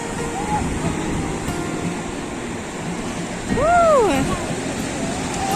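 Sea waves washing up a beach, a steady rushing surf that swells slightly in the middle, with a voice and a high whistling or squealing tone briefly over it.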